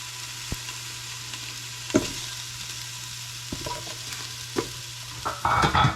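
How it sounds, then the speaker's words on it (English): Sausage and jalapenos fry in a pot for a spicy cabbage soup, a low steady sizzle with a few distinct knocks and scrapes of stirring, and a louder burst of sizzling near the end, with no talking. "Put some sausage in the pot first."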